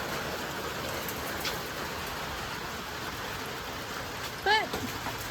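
Steady rain falls outdoors on a winter day, a continuous dense hiss of drops on surfaces throughout, with a brief faint chirp-like sound near the end.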